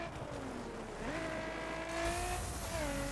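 Car engine from the racing game The Crew, driving around a Grand Canyon gorge: a steady mid-level engine drone with rising and falling gear tones, no talk over it.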